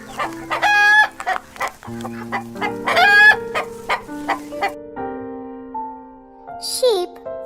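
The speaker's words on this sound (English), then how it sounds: "Chicken." Chickens cluck in short, repeated bursts close by, and a rooster crows near the end, with soft background music tones running underneath.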